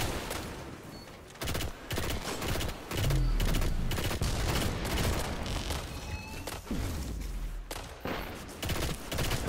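Rapid bursts of automatic gunfire and heavy booms fill a chaotic firefight in Destiny's Vault of Glass raid, loud and nearly continuous with deep low thuds mixed in, while a voice occasionally speaks over the shooting.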